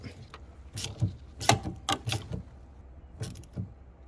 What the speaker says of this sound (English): New hose clamp. Fuel pump. I just have to tighten up that hose clamp.